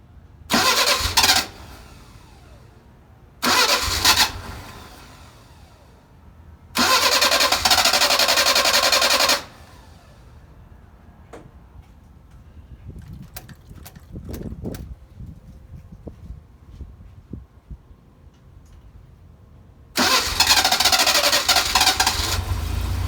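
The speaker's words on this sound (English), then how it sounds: "Car will not be this hard to start normally. It's just I've got no choke" A Mercedes 190SL engine, cold, with no choke and unused for about a year, cranks in several separate loud bursts with quiet pauses between them, then labors to catch and run.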